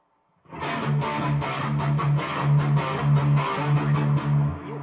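Electric guitar chords ring out with a washy reverb tail, strummed in a steady repeating rhythm, loud and close with no voices.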